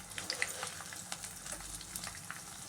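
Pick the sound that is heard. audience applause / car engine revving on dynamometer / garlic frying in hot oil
garlic frying in hot oil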